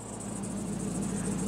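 A continuous high-pitched engine belt squeal whines steadily over a low engine hum from a Chevrolet Silverado SS truck, close and unbroken for the whole moment.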